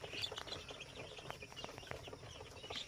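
Young local chicks about two weeks old peep and cluck in a coop at feeding time, with many quick chirps overlapping at low volume close by.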